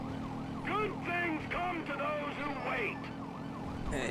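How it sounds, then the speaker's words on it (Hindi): A wailing police siren in the video game Grand Theft Auto V sweeps up and down continuously over a steady engine drone, with a faint voice underneath. "कुछ ज्यादा ही नॉइस आ रही है सायरन की।"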